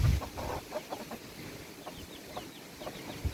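Mother hens scratch and forage for their chicks, giving soft clucks and faint chick peeps over a quiet outdoor background.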